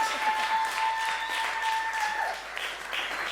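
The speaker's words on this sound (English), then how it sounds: "could I ask you to give a round of applause to all the performers who came before me?" A live audience at a storytelling show applauds the performers, a steady, full round of clapping from a sizable crowd lasting a few seconds without pause.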